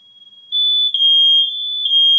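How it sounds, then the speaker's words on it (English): A smoke alarm blares a piercing, high-pitched tone, loud and close, holding steady with slight pulsing. "And now our fire alarm's going off."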